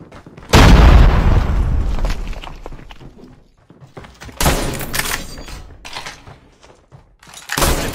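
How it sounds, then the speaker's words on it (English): Several heavy booming blasts in a mobile shooter game played on an iPad Pro, including a grenade explosion, each a loud low thump with a rumbling tail, separated by brief quieter gaps. "Grenade, run!"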